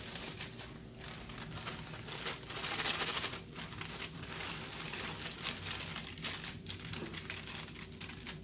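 Dry boxed cake mix tumbles and rustles out of its paper packet into a bowl, a steady crinkly, sandy hiss lasting several seconds with a brief louder surge midway, close and alone.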